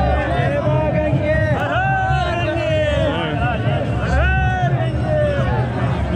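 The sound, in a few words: dense crowd at Gangotri temple festival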